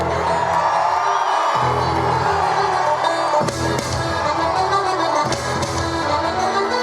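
A huge Irish crowd in Ballina, County Mayo, cheers loudly and continuously as Joe Biden comes out, a dense roar of whoops and shouts with music running underneath.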